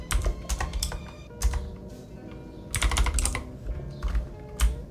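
Rapid clicking of keys on a computer keyboard, irregular bursts of keystrokes with short pauses, close and fairly quiet.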